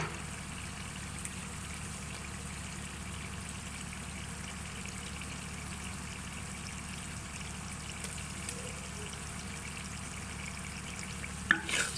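Masala with long-cut green chillies fries in a pan for a mixed aloo, gajar and matar sabzi, giving a soft, even sizzle that holds steady for the whole stretch, close but gentle, with a small clatter near the end.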